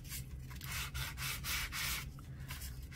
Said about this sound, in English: I have my sanding sponge, and I'm just going to go lightly